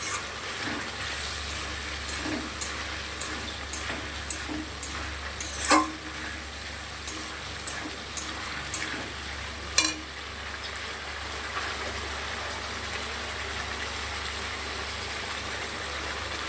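Spice paste for a fish curry frying in a pan as it is stirred with small splashes of water, with a steady sizzle under repeated sharp scrapes and taps of the spatula.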